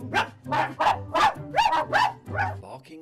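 A person imitates a dog, giving a run of about seven short barks and yips in quick succession, close to the microphone.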